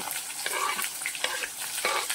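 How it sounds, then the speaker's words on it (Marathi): Cumin seeds, curry leaves and onion sizzling in hot oil over low gas, a steady close crackle and hiss with occasional stirring scrapes, no voices. "आणि जिरे तडतड करताना आपल्याला 5 ते 10 कढीपत्त्याचे पान घालायचे आहे। तसंच ते तडतड होत असतानाच आपल्याला कांदा घालायचा आहे"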